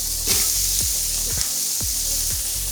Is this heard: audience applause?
no